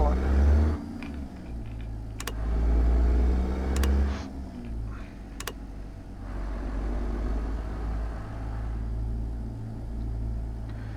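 Kenworth W900 truck engine rolling along in American Truck Simulator: a steady low diesel rumble runs throughout, with a few brief clicks early on and a voice over the drone at the start.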